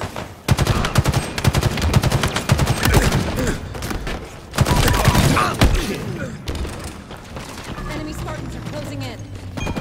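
Dense bursts of automatic gunfire from Halo Infinite multiplayer combat, loud and near, with rapid volleys and a heavier thump mid-clip, then softer scattered shots at the end.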